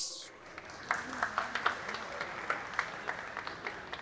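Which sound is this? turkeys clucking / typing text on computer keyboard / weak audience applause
weak audience applause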